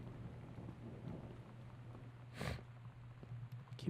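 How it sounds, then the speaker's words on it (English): Steady faint rain in the video game Gone Home, with one brief burst of thunder cracking partway through over a low background hum. "Ah, scary, scary thunder noises."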